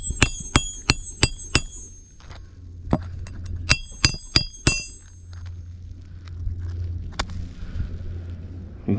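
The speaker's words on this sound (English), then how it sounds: "You can clearly hear those granules just racing down." Sharp metallic clinks ring out as a hammer drives a new nail into roof shingles during a repair, coming in quick bursts of four or five strikes, with a soft gritty rustle of shingle granules sliding down between blows.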